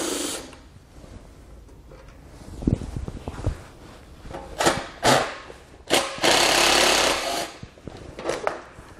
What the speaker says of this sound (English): We're going to take them out with a 10 millimeter socket.